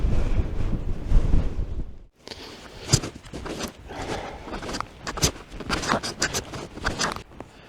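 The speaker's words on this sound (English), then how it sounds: "The wind is blowing really hard." Strong gusting wind on the fell top of Middle Fell in the Lake District buffets and roars across the microphone, dropping briefly to near quiet before surging back in heavy, uneven blasts.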